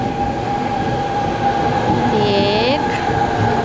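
A subway train rumbles loudly into the station, with a steady low roar, a hum of machinery and a brief high wheel squeal as it slows.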